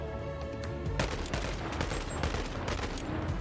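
A tiny Uzi in the VR game Bonelab fires a dense, continuous rattle of rapid shots after a brief quieter lead-in, with game effects underneath.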